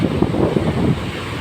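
Steady rushing roar of strong typhoon-driven sea waves and wind on Banton, Romblon, Philippines, loud and close, with no voices.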